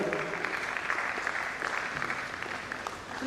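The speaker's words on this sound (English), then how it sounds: "Please, a round of applause for him as he comes forward." At a university management sciences conference, the audience applauds a dean coming forward to give a welcome address: even, moderately distant clapping that holds for a few seconds with faint voices beneath.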